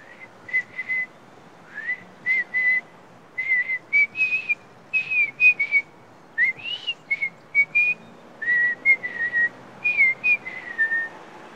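A person whistles in Kurdish, a rapid series of short, bright notes in bursts, some sliding up or down, repeated steadily with brief pauses, fairly close and clear.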